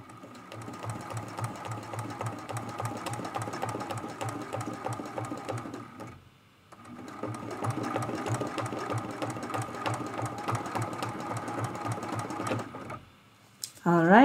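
A sewing machine quilts an art quilt in two long runs of rapid, steady stitching, close and even, with a brief pause between and a short stop near the end.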